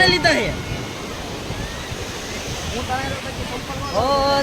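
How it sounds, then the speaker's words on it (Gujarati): Sea waves wash steadily onto the shore at Somnath beach with a broad rushing roar, while people talk nearby. "દરિયામાંથી મોજા ઉપર મોજું એની માથે મોજું આવ્યા જ કરે"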